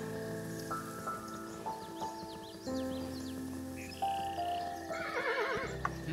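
A horse neighs in the video game Kingdom Two Crowns, its whinny sitting among soft game music tones and ambient rain-like patter, moderately loud.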